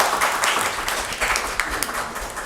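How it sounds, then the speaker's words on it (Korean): An audience at a youth forum gives steady, moderate applause. The clapping carries through the room as a dense, even patter of many hands from start to finish. "지금 내빈 소개를 해주신 김부상 감사님께 다시 한번 감사의 박수 부탁드리겠습니다"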